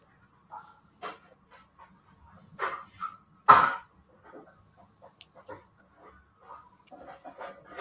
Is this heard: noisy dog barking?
yes